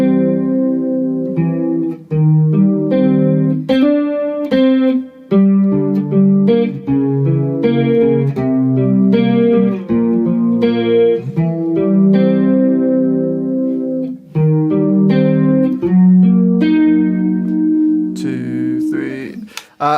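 Electric guitar plays the intro line of a song, a steady run of clear picked notes and chords with brief pauses between phrases, close and loud, with no talk over it.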